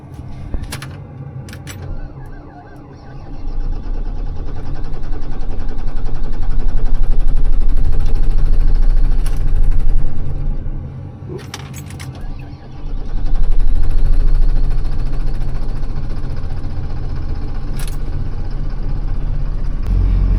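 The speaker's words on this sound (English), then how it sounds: "Now that the engine's running" The diesel engine of a logging machine runs at a steady low rumble in cold winter weather, swelling louder midway, dipping briefly, then settling back into a constant drone with a few clicks.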